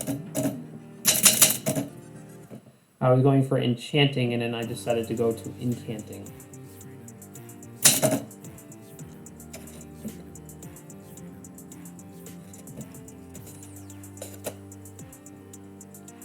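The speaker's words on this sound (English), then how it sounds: "One of those situations where I can correct a letter by just typing over it." Bursts of mechanical typewriter keystrokes clack quickly, then give way to a person talking, with a few more key strikes scattered under the voice.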